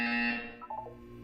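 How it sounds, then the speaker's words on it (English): An electronic buzzer from the video game Portal 2 sounds once, a loud harsh tone that fades after about half a second into a brief trailing chime. "When you hear the buzzer, look down at the floor"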